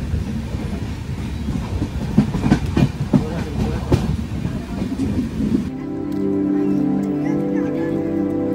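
A passenger train rolls along the Konkan railway in heavy rain, its wheels clattering with uneven rhythmic knocks, then the sound shifts to a steadier droning hum for the final few seconds.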